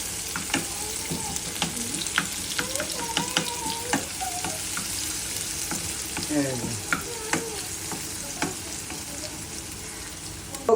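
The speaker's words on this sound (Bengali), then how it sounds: "আমরা এখন এই যে দেখুন পেঁয়াজ ভুনা করছি।" Onions frying bhuna-style in a pan for chickpea chana, giving a continuous sizzle punctuated by repeated sharp spatula scrapes and knocks as they are stirred; no talking.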